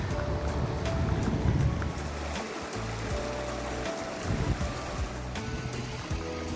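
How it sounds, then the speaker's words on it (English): A small waterfall on the Matanuska Glacier near Anchorage pours in a steady, nearby rush of water with some wind-like noise and a few sharp knocks, and nobody speaks. "The glacier has a little waterfall right there."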